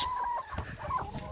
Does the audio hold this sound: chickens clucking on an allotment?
yes